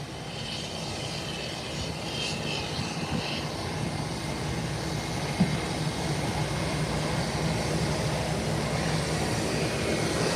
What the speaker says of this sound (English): While the private aircraft is heading down the runway, in preparation for departure